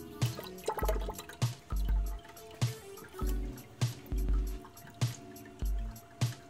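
Coolant sloshing inside a supercharger cooling reservoir as an electric water pump circulates it, giving close, rhythmic swishes and drips that repeat roughly every beat with no voices.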